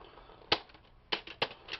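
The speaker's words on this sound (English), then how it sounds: "now today I'm going to scrap a computer keyboard" A computer keyboard handled before being scrapped gives a few sharp plastic clacks and rattles, one at a time with quiet gaps, close to the mic and with no talking.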